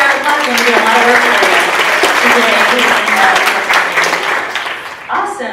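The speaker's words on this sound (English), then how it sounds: "give her a round of applause" A room of staff at a university all-staff meeting breaks into loud, sustained applause, the clapping tapering off near the end.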